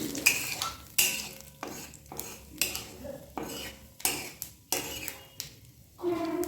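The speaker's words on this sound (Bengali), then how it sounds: "কালো জিরেটা একটু নাড়াচাড়া করে নিই" Black cumin (nigella seeds) stirred in a frying pan after a fish head was fried, with a spoon scraping and clinking in a steady rhythm of about one stroke per second, close and moderately loud, no talk.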